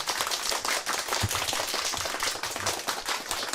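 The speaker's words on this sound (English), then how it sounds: "let's give a huge clap to Wandia Njoya" An audience claps loudly and continuously for a guest at the close of a discussion event, a dense, close burst of many hands with sharp overlapping smacks and no voices.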